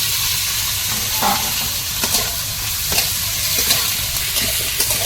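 Black cumin and green chillies frying in hot oil, a loud continuous sizzle broken by scattered scraping stirs and small pops, with no speech.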